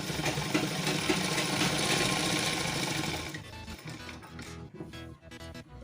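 A sewing machine stitches a salwar in a fast, dense mechanical whir for about three seconds, then stops, leaving only faint handling noises.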